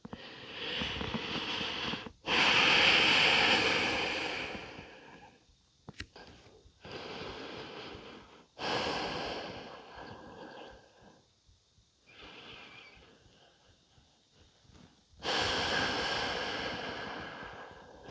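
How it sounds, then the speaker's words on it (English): Deep, slow breaths taken while resting in yoga child's pose, each inhale and exhale swelling loudly and close, separated by quiet pauses, with no talking over them. "Take some breaths here."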